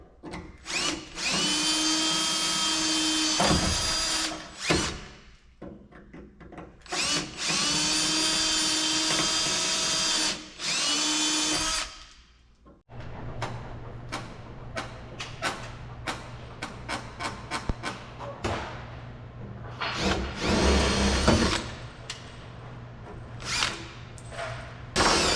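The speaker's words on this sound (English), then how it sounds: "now let's drill these out" A power drill bores out rivets on a Kenworth cabover, whining loud and close in several long bursts, followed by shorter choppy drilling and clatter.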